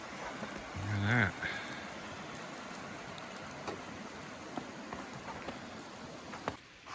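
Steady rain falls in a winter storm beside a river in New Hampshire, giving a faint, even hiss with scattered drops, and one brief louder sound stands out early on.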